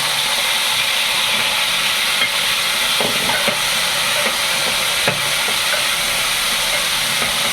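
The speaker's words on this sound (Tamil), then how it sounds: "கத்திரிக்காய் எடுத்து அதை வதக்கி" Loud, steady sizzling and hissing of food frying in a pan, with occasional soft clinks of stirring, and no talking.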